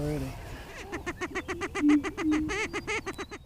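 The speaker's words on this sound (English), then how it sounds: "Iowa's greater prairie chickens, as their stage begins to light." Greater prairie chickens in Iowa call at dawn on their lek, a rapid series of low hooting, cooing notes pulsing in a steady rhythm, close and clear, with a brief voice at the very start.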